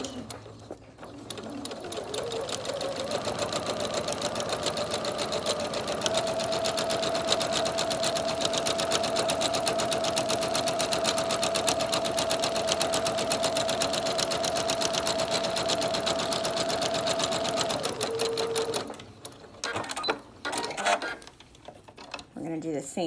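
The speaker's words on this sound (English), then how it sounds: "we're going to go ahead and get this on our machine, and we're going to sew along this long edge" Sewing machine stitching along the long edge of a fabric 3-D face mask, a steady continuous motor whir with rapid needle clatter that runs for about fifteen seconds and then stops, with nothing spoken.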